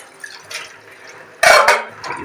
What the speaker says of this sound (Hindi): ऐसे जोश जोश पे बर्तन धो ले रही हूँ